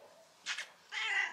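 A cat gives two short meows followed by a longer, drawn-out meow, close and fairly quiet in a calm setting with no talk.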